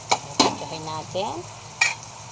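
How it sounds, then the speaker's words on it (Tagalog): Garlic and onions sautéing in a pan for a kare-kare base, stirred with a few sharp scrapes of a utensil over a soft sizzle, while a voice briefly speaks in between. "Haluin natin. Okay na ang bawang at sibuyas natin."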